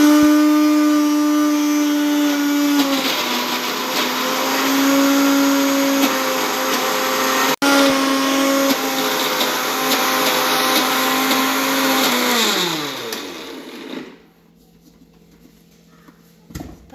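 A mixer grinder whirring steadily and loudly as it grinds dried prawn and raw mango chutney, with slight pitch shifts midway, then winding down and stopping near the end, leaving quiet.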